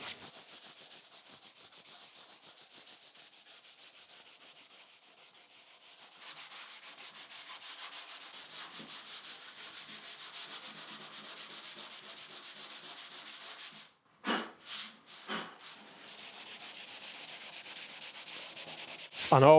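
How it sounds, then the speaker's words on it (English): Steady, close rubbing of 120 grit sandpaper along a wooden drum shell, a continuous hiss that breaks briefly into a few separate strokes before resuming. "sand the shell just with 120 grit sandpaper"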